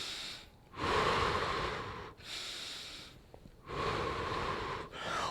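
Heavy, loud breathing after jumping jacks in an adult exercise class: three long noisy exhalation bursts separated by brief pauses, close to the mic with no talking.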